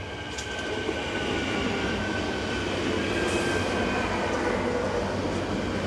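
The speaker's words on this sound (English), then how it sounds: "The 1229 from Heb to Prague powers through the station with 363114" Locomotive 363114 hauls the 12:29 Cheb to Prague passenger train through a Czech station without stopping. A loud, continuous rolling roar of wheels on rail holds steady, with faint metallic squeals riding on top.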